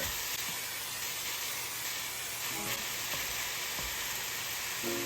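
Ground meat for a meat sauce sears in a hot pan, giving a loud, continuous hissing sizzle that holds steady from start to finish.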